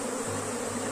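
A honeybee colony buzzing at a hive that is ready for its first honey super, a dense, steady hum of many bees heard close and continuous, without any voices.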